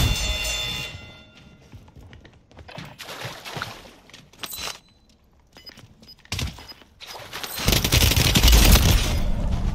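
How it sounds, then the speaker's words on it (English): Pistol fire in a military shooter video game, with several sharp broadband bursts scattered through the clip, ending in a louder, denser stretch of gunfire and impacts. "Pistol."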